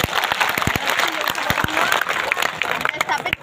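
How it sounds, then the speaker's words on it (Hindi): Dense crowd applause with scattered sharp claps, steady and loud throughout, with a voice faintly underneath, at a tribal community ceremony installing a Birsa Munda statue in Chachariya village. "उन कार्यकर्ताओं के लिए जोरदार तालियां बजाओ"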